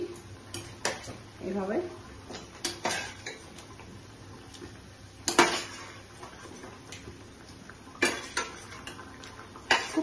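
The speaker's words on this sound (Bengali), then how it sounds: "এখন আমি একে একে এগুলোকে কোপ্তাগুলোকে দিয়ে দিচ্ছি" Soyabean koftas are dropped one by one into a pan of spiced curry, making a series of irregular clinks and taps of utensils against the pan while someone talks.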